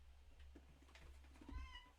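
A pet cat meows near the end, a short harmonic call rising over a steady low hum and faint room noise.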